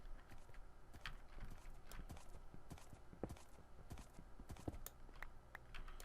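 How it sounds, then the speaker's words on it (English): Horses in Minecraft, a video game, give irregular clip-clop hoof steps at low volume, scattered across several seconds over a faint background. "Horses."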